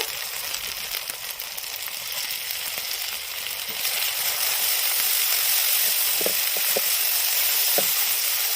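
Masala paste with ginger and garlic sizzling in a pan for Bengali rohu fish kalia, a steady hissing fry that grows louder midway, with a few faint clinks of stirring.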